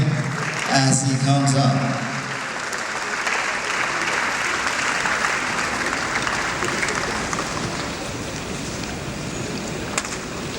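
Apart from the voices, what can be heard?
audience clapping as a speaker comes up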